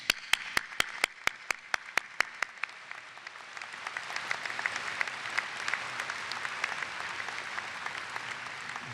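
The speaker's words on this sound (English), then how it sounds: "Let's have an applause for them." An audience applauds at a college commencement ceremony; a few sharp, evenly spaced claps open the clip, then spread into sustained, moderately distant applause from the crowd.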